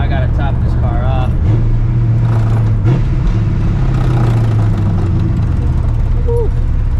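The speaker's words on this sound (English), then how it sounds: "I'm gonna pull up to the gas station right now" A 600 hp New Edge Mustang GT pulls into a gas station, its engine a loud, steady low rumble that swells and shifts pitch as it rolls in, with faint voices underneath.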